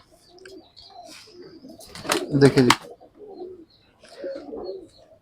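A pair of Pi Lakha pigeons coo softly in low, throaty bursts, broken midway by a louder rustling flurry, while someone talks over them.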